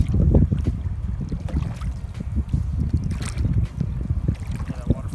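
Paddle strokes splash and swish through water in a steady rhythm, with wind buffeting the microphone and water gurgling around a canoe on an Alaskan river.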